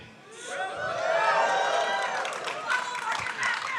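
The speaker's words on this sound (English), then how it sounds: "that's like the biggest cheer I've gotten during the Q&A" An audience at a PAX East 2025 Q&A session for Penny Arcade's Make-a-Strip cheers loudly. Shouts and claps build quickly and hold steady for several seconds.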